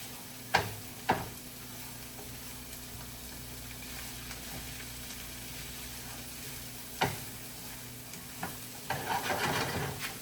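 Vegetables sauté in a pan for a stir-fry of shrimp and vegetables, a soft steady sizzle with a few sharp utensil taps and a burst of stirring near the end, no talk.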